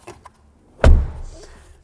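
One firm slam of a 2022 Ford Maverick truck door, heard up close as a single deep thud after a couple of faint clicks, ringing out briefly before quiet returns.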